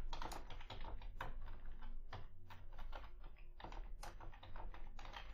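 Keys on a computer keyboard clatter in quick, uneven runs of close, crisp clicks with short gaps between bursts, faint overall and with no voices.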